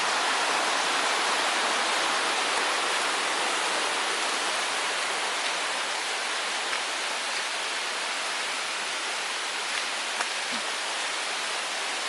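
Water of a clear green stream flows at Emerald Pool in Krabi, a steady, loud, even rushing wash that never lets up, with no voices over it.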